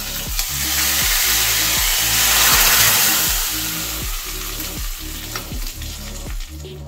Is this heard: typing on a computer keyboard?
no